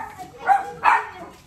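A dog barks twice in quick succession, two short, fairly close barks with a brief gap between them over quiet background.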